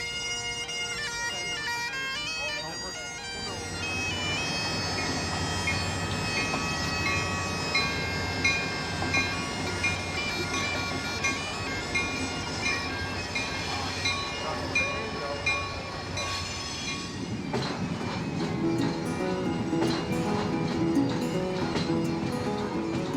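A specially designed scenic viewing train travels through the Canadian Rockies, its rumble and rhythmic rail clatter running steadily under a thick layer of music.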